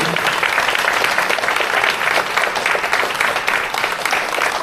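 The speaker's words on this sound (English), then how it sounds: "I would like to give them a round of applause and invite them to the stage" Steady, loud applause from an audience at a volunteer appreciation event for CERT award volunteers, continuous dense clapping filling the whole stretch without letup.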